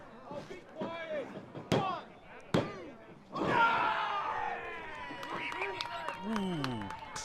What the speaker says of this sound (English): big belly to belly suplex.